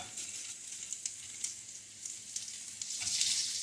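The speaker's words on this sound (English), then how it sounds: "I can hear these things starting to sizzle." Lamb sizzles in a hot pan with a steady, faint hiss and occasional crackles, no talking.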